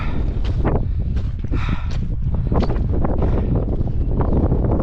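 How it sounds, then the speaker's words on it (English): Strong wind buffets the microphone on England's highest mountain summit, loud and constant with heavy gusting roar and rumbling low pulses throughout, no speech. "So that wind's not letting up."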